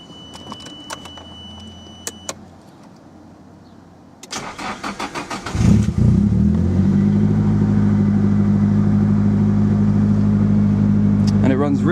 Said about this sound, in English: All S13s seem to make the same sound, or SR20s, when they start up